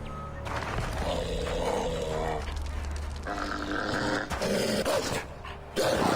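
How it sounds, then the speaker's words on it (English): Wild wolves snarl and growl in Assassin's Creed 3, a loud continuous stretch of layered aggressive growls and roars with game music and ambience underneath. "They're not bad dogs. They're wild wolves."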